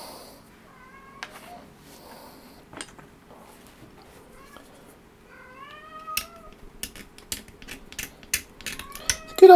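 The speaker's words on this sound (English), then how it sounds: "You hear him meowing on there" A cat meows several times in short, rising-falling calls at moderate distance, mixed with light clicks and tapping of small plastic model Marines and magnets being handled close by, the tapping growing busier toward the end.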